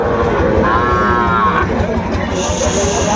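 A cow moos once amid a dense, noisy crowd hum and background chatter of a busy outdoor cattle market in Ambari, Dinajpur, Bangladesh, where young bulls and heifer calves are traded.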